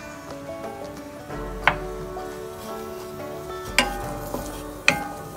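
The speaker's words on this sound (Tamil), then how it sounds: "எண்ணெய் காஞ்சதும் நம்ம பொரியா நறுக்கி வச்சிருக்க வெங்காயத்தை சேர்த்துக்கலாம்" Oil sizzles steadily in a pan as onions fry, with a few sharp clinks and scrapes of a utensil stirring over a low continuous hum.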